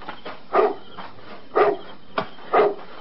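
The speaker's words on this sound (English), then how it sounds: "that's a dog barking at nothing" A dog barks three times at a steady, evenly spaced rhythm, fairly close, with brief quiet gaps between the barks.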